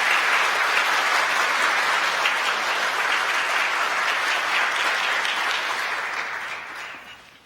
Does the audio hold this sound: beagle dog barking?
no